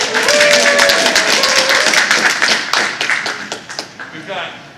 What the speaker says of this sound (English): This one you applaud.